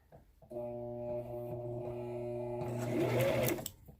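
A sewing machine stitches along the edge of a fabric face mask, giving a steady, close mechanical whir for about three seconds that ends with a brief clattering flourish.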